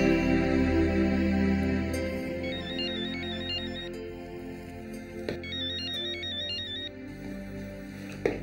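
A mobile phone ringtone signals an incoming call late at night, a loud repeating electronic melody that plays in two bursts and stops near the end.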